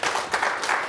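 Audience applause at a history lecture on Kim Jwa-jin, a short burst of dense clapping heard close and fairly loud.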